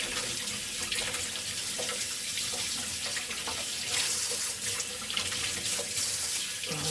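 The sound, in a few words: washing hands under running tap water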